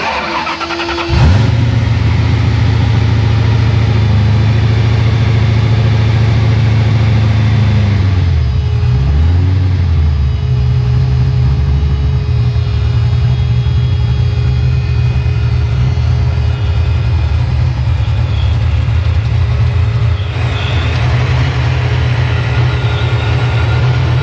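A supercharged 363 Foxbody V8 starts and revs on a ride, a loud, close, steady roar with pitch rising and falling through the run, no talking.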